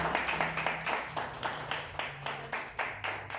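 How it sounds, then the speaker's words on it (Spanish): A church congregation claps in a fast, even rhythm, each sharp beat clearly spaced over a low sustained tone in the background. "Dele aplauso al Señor"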